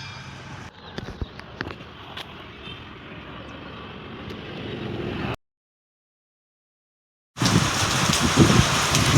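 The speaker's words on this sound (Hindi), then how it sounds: "ये देखो दोपहर तो अचानक बारिश होना स्टार्ट हो गई।" A sudden heavy afternoon downpour hisses steadily and close, with scattered sharp drips and taps. The sound cuts out for about two seconds, then the rain returns even louder.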